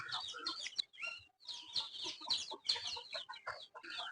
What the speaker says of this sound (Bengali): আজকে আমরা মুরগিগুলো সব ছেড়ে দিব বাসার মধ্যে